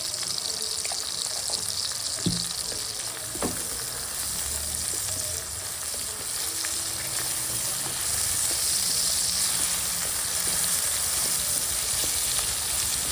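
Tomatoes and turmeric fry in a pan with a steady, loud sizzle. A couple of stirring knocks come early, and the hiss holds unbroken throughout with no voice.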